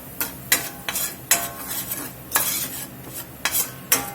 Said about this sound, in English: We're going to get us a little flour in here. It makes up a roux.